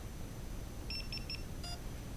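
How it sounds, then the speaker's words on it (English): R/C plane electronics beeping with no radio transmitter switched on: three short electronic beeps in quick succession followed by a brief higher warble, faint over a low background hum. "I'm beeping just because I don't have a radio on right now."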